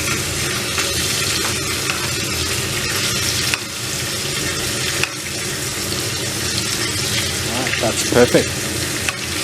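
A rack of lamb being basted in a sizzling roasting pan, giving a loud continuous frying hiss with spoon scrapes and spattering. Someone speaks briefly over it near the end.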